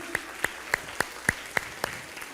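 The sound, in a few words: audience applause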